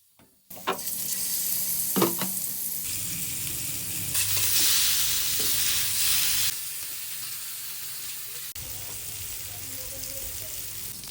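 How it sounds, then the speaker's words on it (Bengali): Rohu fish pieces fry in oil in a pan, a loud close sizzle that flares into strong hissing as pieces go in, then settles to a steadier, quieter crackle. "প্যানে সবগুলো মাছ এক এক করে ভেজে নেব।"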